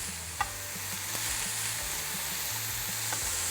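Meat frying in its own rendered fat over a high flame, a steady close sizzle with occasional spatter pops and scraping stirs, no voices.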